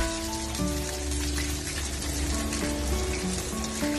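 Onions sizzle over milkfish in a hot pan, a steady close frying hiss with faint crackle throughout and no talking.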